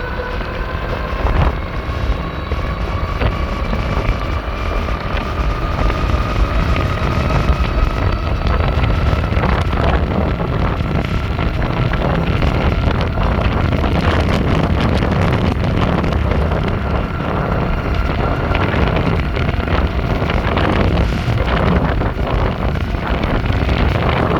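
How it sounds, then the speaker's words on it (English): Loud, blustery wind buffets the microphone continuously while riding a Fucare Scorpio electric scooter at about 31 mph into the wind, with a faint rising dual-motor whine beneath the roar. "It's kind of windy out"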